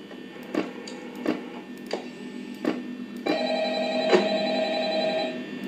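A telephone rings in the Five Nights at Freddy's horror game, repeated short ring bursts spaced about every second, then a longer sustained tone, fairly loud and with no talking.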